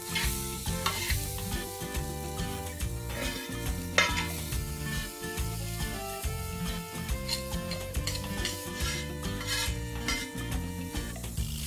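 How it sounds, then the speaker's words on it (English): Six chopped medium tomatoes sauté in oil in a pan, giving a steady sizzle with frequent scraping and clinking of a spoon stirring against the pan. "You have to saute this till the oil separates."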